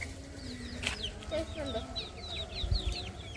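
A country chicken clucks in soft, repeated short calls close by, with a voice speaking briefly over the quiet background.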